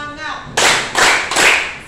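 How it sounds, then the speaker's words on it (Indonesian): Audience at an Indonesian teachers' workshop doing a rhythmic spirit clap: three bursts of clapping, close and loud, each following a brief spoken cue. "Satu kali tepuk semangat, dua kali tepuk semangat, tiga kali tepuk semangat."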